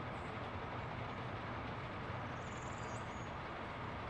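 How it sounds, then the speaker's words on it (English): A train ride in the city-building game Workers and Resources gives a continuous loud rumble of rail wheels and carriage noise, steady throughout, with no talking. "So we'll enjoy our last train ride."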